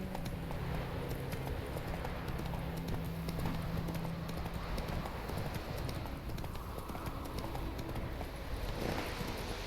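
Roach the horse in The Witcher 3, hooves clip-clopping at a steady trot on ground beneath constant wind and rain-like ambience, moderately close and fairly quiet, with no talk over it.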